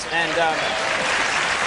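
Studio audience applauding on a late-night talk show, a brief burst of clapping from a crowd that rises quickly and holds steady, with a voice speaking over it.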